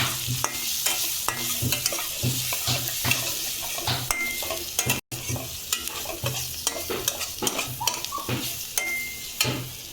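Turmeric and coriander powder being stirred into a frying mixture in a pan for masala dosa filling, a steady sizzle with repeated scraping strokes of a spoon against the pan throughout, close and fairly loud, with no talking.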